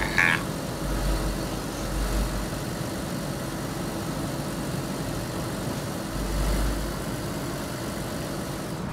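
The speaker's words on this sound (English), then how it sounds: "That's Wheelsy's truck" A truck engine in the DayZ video game, on the winter Chernarus map, gives off a low, steady rumble with slight swells, heard alone and fairly close with no talking.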